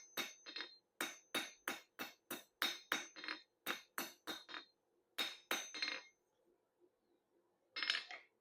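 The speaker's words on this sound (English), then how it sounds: "try not to hit your anvil, but slowly knock off those corners" A blacksmith's hammer strikes hot metal on an anvil while knocking corners off a small piece, a rapid run of ringing clinks in bursts with short pauses, then one final strike after a quiet gap.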